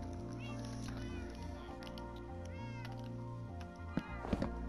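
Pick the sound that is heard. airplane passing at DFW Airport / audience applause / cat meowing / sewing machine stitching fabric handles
cat meowing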